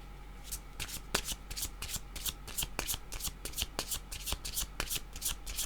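A deck of tarot cards is shuffled by hand in quick, regular riffling bursts, crisp and close, repeating steadily with no voice over it.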